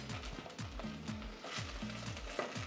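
Two garlic cloves, used earlier to soften beans, go into a pot for a Dominican longaniza locrio and sizzle softly, with repeated stirring and scraping clicks in a quiet kitchen.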